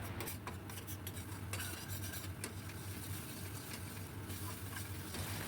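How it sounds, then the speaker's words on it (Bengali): Spices are stirred in oil in a pan for stuffed pointed gourd, a Bengali vegetarian dish: a quiet, continuous scraping and rustling with a faint low hum beneath, steady throughout. "খুব ভালো করে নাড়াবো যতক্ষণ মশলা থেকে তেলটা ছেড়ে না আলাদা হয়ে যায়।"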